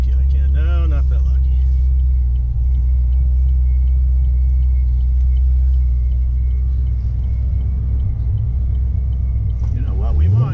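A 2010 Camaro SS with a Kenne Belle supercharger driving on the road, a loud steady deep engine rumble heard from inside the cabin, with speech over it at the start and end.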